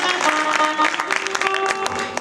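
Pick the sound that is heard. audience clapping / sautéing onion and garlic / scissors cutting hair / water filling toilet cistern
audience clapping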